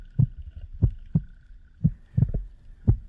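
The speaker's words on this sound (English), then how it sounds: "the fish sense my heartbeat" A freediver's heartbeat underwater while spearfishing, six slow, deep, muffled thumps spaced roughly evenly, close and heavy against a quiet background.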